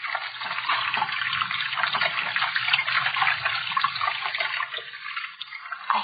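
Rushing, sloshing water sound effect from an old-time suspense radio drama, a steady gurgling wash that runs continuously for the whole stretch without speech.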